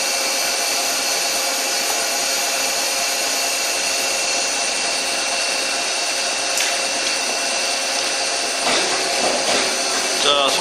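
A CNC lathe cuts metal during a slow, even pass. It makes a loud, steady, close mechanical whine with a tonal hum, continuous throughout, with a brief rougher change near the end.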